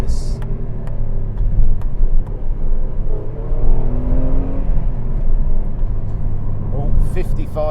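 A Renault Clio V6 engine drones steadily while driving along a road, a loud, continuous mechanical hum with some rising tonal sweeps, and a brief higher clatter near the end.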